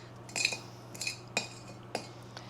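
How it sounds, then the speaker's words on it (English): A utensil scraping frangipane filling from a mixing bowl for a rhubarb galette, four or five short metallic scrapes and clinks, close and fairly crisp, spaced irregularly. "scrape out as much of it from your mixing bowl as you can"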